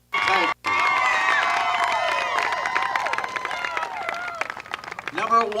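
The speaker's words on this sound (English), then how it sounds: "Give a round of applause to Chippewa Falls." A crowd at a high school softball sectional final medal ceremony claps and cheers, with many voices shouting and calling over the applause in a large, echoing space.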